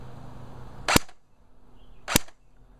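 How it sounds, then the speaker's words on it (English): Two sharp airsoft gun shots spaced about a second apart, each a loud crisp crack with a short tail, fired at a skeet target outdoors over a low background hiss. "Firing."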